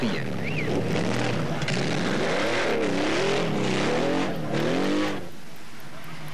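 Factory Porsche rally cars from the 1985 Paris-Dakar race roar past with engines revving and pitch sweeping up and down, loud and close, then fading away; a commentator speaks over them.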